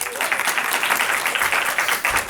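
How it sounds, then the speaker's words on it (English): Audience applause at a live film Q&A event, dense and steady clapping from a crowd filling the whole stretch at a fairly loud level. "Let's give him a round of applause."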